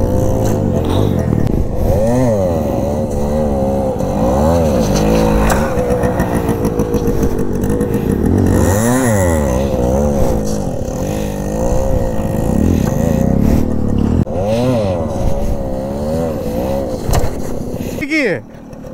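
A motorcycle engine revved hard for a wheelie, the throttle repeatedly blipped and held so the pitch climbs and falls in surging waves, loud and close throughout, with someone talking over it.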